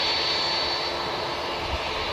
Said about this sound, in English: that noise you can hear approaching is the Turkish A321 heading back out to Istanbul